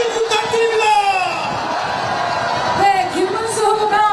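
A large crowd cheers and claps loudly and steadily at a presidential campaign rally in Seoul Station plaza, with whoops and shouts rising over the din throughout.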